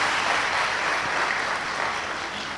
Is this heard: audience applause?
yes